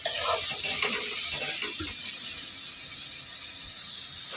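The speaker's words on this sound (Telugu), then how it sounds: "ఇప్పుడు ఆనగాయ ముక్కలు వేసుకోవాలి. ఇవి బాగా కలుపుకోవాలి." Bottle gourd pieces being stirred in a frying pan while making a chutney. A steady hiss of sizzling runs throughout, with a few scraping stirs near the start, close up and with no talking.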